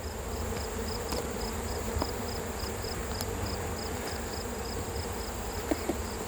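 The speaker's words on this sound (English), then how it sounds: "Got a lot of bees on that thing." Honey bees swarm around an open hive being worked with smoke, their dense, steady buzz filling the space close up and unbroken throughout, with no voices.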